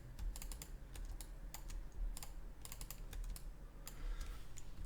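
Rapid typing on a computer keyboard while modeling a Mad Hatter hat in 3D software, a steady run of sharp close-up key clicks over a low background hum, with no talking.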